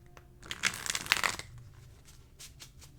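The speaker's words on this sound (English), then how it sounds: "We'll do one more shuffle." A brief riffle of tarot cards being shuffled, a quick flurry of papery flicks lasting about a second, close and fairly soft, then quiet handling.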